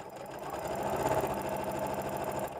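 A sewing machine hums steadily and close while sewing a rolled hem, its needle thumping in a fast, even rhythm for the full stretch with no talk.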